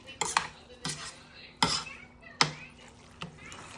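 Metal spoon knocking and scraping in a pot of jollof rice, five sharp clanks spaced about a second apart and fairly close, with faint talk between the hits.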